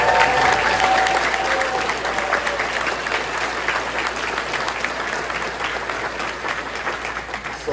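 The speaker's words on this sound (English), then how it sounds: "I would like everyone to give all of our teachers a big round of applause" An audience at the 2024 Indian River County sheriff debate applauds teachers, with steady, dense clapping from a crowd that carries on evenly for several seconds and thins slightly toward the end.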